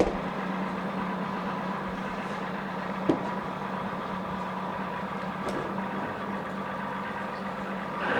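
A 2015 Evinrude E-TEC 150 hp two-stroke outboard boat motor with a 25-inch shaft idles at low RPM, a steady low droning hum close by with one brief click partway through.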